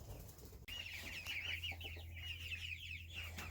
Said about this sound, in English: I want to show you our 8-week-old chickens now.